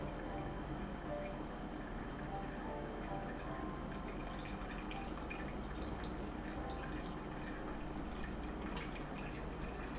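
Chai latte poured through a double strainer gives a steady, continuous trickle and splash of liquid at close range, unbroken for the whole stretch, with no talking.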